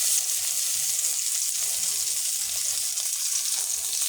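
Chopped garlic frying in a pan, a steady close hiss of sizzling oil with no talk.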